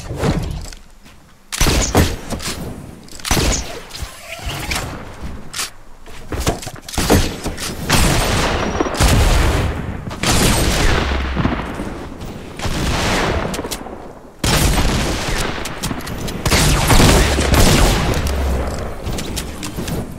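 Rapid bursts of sniper rifle fire and heavy impacts in a fast-paced online shooter game, loud and dense across the whole stretch with short gaps between volleys.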